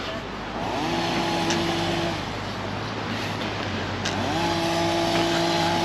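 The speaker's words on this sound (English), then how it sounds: "we've got some gardeners out there doing some trimming" Gardeners trim with a power tool outdoors at Playa de Palma, Mallorca, its motor whining up in pitch, easing off, then revving again, moderately near over steady outdoor background noise.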